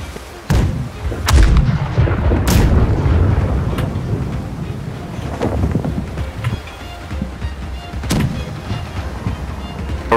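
Heavy ship cannon volleys boom in a video game naval battle, several deep blasts spread across the stretch with rumbling wind-like roar between them; no clear talk.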